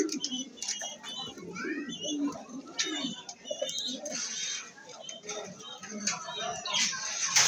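Maxi racer pigeons coo in soft, repeated low murmurs around a loft, mixed with scattered chirps from other birds and a faint background voice.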